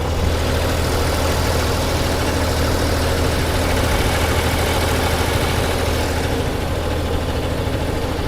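A FAHR M600 mini combine harvester's small engine idles steadily nearby, a continuous loud rumble with a faint rattling vibration and no voices.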